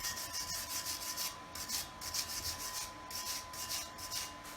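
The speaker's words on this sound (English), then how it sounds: "A wire brush." Wire brush scrubbing across a steel weld on a heavy-duty diff pan, a steady close rasping scratch in repeated back-and-forth strokes with no talk.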